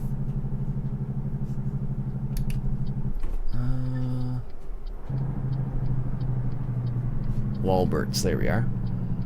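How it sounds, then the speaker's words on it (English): A truck's Jake brake in American Truck Simulator, a steady engine drone that switches to a rapid stuttering rumble for about a second, then drops back to a smooth hum while someone talks over it. "I love the old Jake brake working away there."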